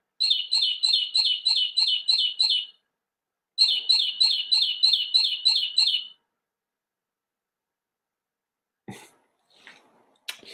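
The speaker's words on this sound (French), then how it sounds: "chaque peluche correspond à un oiseau chanteur avec le chant qui a été enregistré" A bird plush toy plays a recorded songbird call: two bursts of rapid, evenly repeated bright chirps, close and clear, then silence with a few faint scattered noises.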